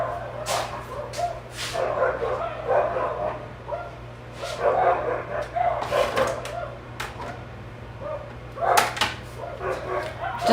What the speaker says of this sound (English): So you're gonna hear the dogs go nuts.